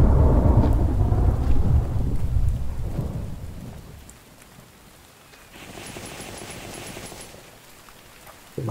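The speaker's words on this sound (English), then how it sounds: "We'll try and get another one done before this rain goes away." Heavy rain with rumbling thunder in The Infected video game, loud and dense at first, then easing to a softer steady patter with a fainter second swell of storm noise near the end.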